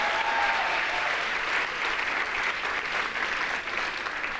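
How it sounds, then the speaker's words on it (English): Audience applause for stagehands at a comedy show in Montreal, a full steady wash of many people clapping, moderately loud and even throughout without speech. "Applause for our stagehands, I think."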